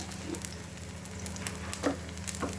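Aloo tikki frying in desi ghee in a frying pan, sizzling steadily and close with a faint hum underneath, sprinkled with small pops and crackles throughout.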